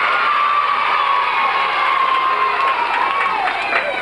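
Crowd of children at a reading event cheering loudly, a sustained shouting roar with a high voice trailing across it, dense and close, with scattered claps and whoops in the mix.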